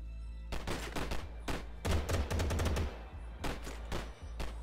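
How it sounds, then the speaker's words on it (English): Gunfire in the crime game Gangster New Orleans: loud single shots and tight rapid bursts from automatic weapons, with heavy low-end thumps and brief gaps between volleys. "Somebody's shooting me on this spot."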